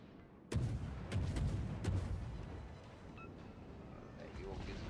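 Naval guns fire in World of Warships as a quick series of sharp booming salvos, several bursts in the first two seconds then fainter rumbling impacts, with a voice talking throughout.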